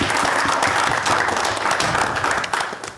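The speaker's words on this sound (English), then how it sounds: "I would like folks to join me in another round of applause for Naomi Lipnick." Audience at a community board monthly meeting gives a round of applause, dense steady clapping from many hands filling the room, fading slightly at the end.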